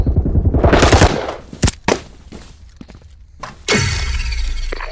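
Gunfire in the game Firewall Zero Hour: bursts of automatic shots up close, a couple of sharp single cracks in the middle, then a sustained loud burst with shatter-like debris at the end, while players call out to each other.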